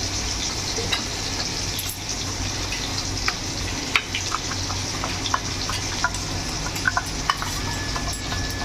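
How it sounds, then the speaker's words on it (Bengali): Kashmiri chili powder stirred into water for a Bengali cauliflower and prawn dish, a steady watery swirl with light scraping ticks against the bowl, close and continuous over a constant background hiss. "তো ভালো করে এটা জলের মধ্যে গুলে নিয়ে মশলাটা দিয়ে দেবো।"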